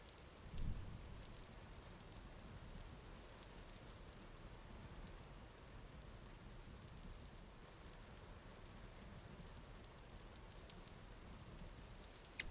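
Soft, steady rainfall in the video game Vintage Story, a faint continuous patter with a brief low thump near the start and a sharp click at the very end.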